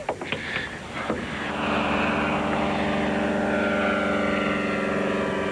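An ultralight microlight aircraft engine, sputtering in a few uneven pops before catching and swelling into a loud, steady propeller drone that holds close and constant.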